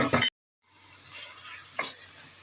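Onion dropping into hot oil in a pan, with brief loud sizzling, then a gap, then a steady low frying hiss and a small sputter burst near the end.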